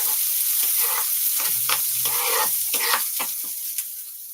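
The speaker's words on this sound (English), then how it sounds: "So let's fry this up real quick." Wrap filling sautéing in a hot pan with thyme stems, a close sizzle broken by several sharp stirring and scraping bursts, fading slightly toward the end.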